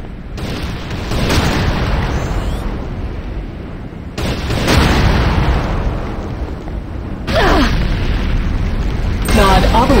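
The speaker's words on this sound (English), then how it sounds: "Nod obelisk destroyed." Booming explosions from a Nod obelisk being destroyed in the game Command & Conquer: Renegade, a series of loud, sustained blasts with crackling debris rolling one after another across the scene.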